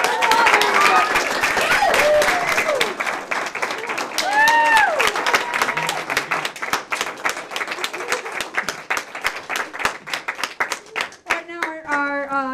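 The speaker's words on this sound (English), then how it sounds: "Let's give them a round of applause." An audience claps and cheers in a round of applause for two guests at an interview event, with a voice rising over the crowd and whoops scattered through the sustained clapping, which thins toward the end as the speech returns.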